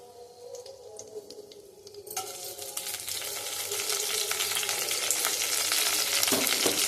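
Mustard and cumin seeds crackle and sizzle in hot oil for tempering, the frying growing louder and steadier after a sudden start, with occasional stirring clinks.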